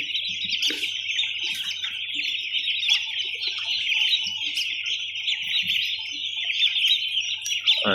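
Chicks in a poultry house chirp constantly, a dense, bright, overlapping flock of high peeps close by, with occasional faint knocks underneath and no talk.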